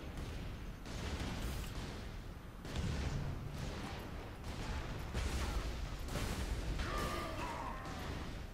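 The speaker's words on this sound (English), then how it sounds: "Grenade." A grenade goes off in the Space Marine video game amid a steady barrage of gunfire and blasts, the loud bursts layered densely across the whole stretch with no quiet gaps.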